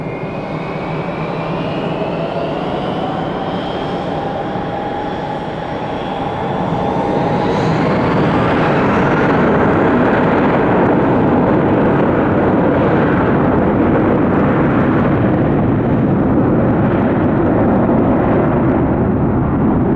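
A Spirit Airlines jet airliner takes off from Detroit Metro Airport. A loud engine roar builds from a whining spool-up into a sustained, heavy rumble that stays strong to the end, with no talk.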